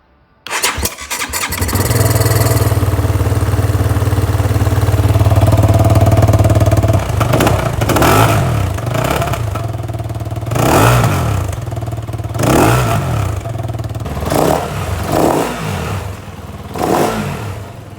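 A Kove 450 motorcycle engine cranks and fires up close by, settles into a steady idle, then gives a series of sharp throttle revs that rise and fall in repeated bursts.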